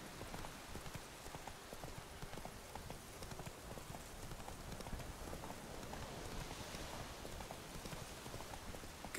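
Horse hooves clip-clop steadily on wet ground during rainfall in the fantasy game The Witcher 3, a faint, even trotting rhythm under a constant hiss of rain.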